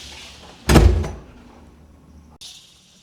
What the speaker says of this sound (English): And then you can open up the door